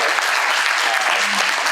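Audience applause for the moderators at a King County Executive candidate debate in a high school venue, a dense, steady clatter of many hands filling the room without pause.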